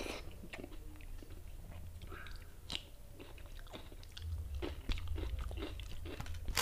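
Crunchy bites and steady chewing close up, with no talk, as someone eats hot khichdi with fried brinjal, cucumber, green chilli and mango pickle.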